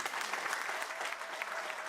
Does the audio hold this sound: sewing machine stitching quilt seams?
no